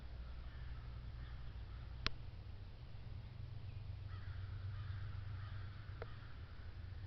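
Two birds gliding overhead give a pair of brief, sharp crow-like caws, a few seconds apart, over a steady low outdoor rumble of wind or distant traffic.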